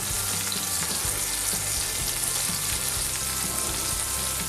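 Pork browns in a pot with a loud, continuous close sizzle and crackle, broken by a few low thumps of the meat being moved.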